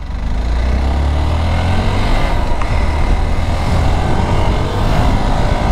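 Steady motor drone of a Hero Xpulse 200 4V Pro Rally Edition motorcycle being ridden, loud and continuous close to the mic, with wind rush and no talk.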